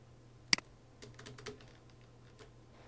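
A computer keyboard tapped quietly at close range: one sharp key strike, then a short, uneven run of soft keystrokes over low background hum.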